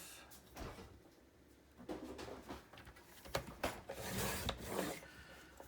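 Paper being cut to a 5 by 2.5 inch piece for a handmade faith journal, heard as quiet, uneven rasping and rubbing strokes in short bursts, with no talk.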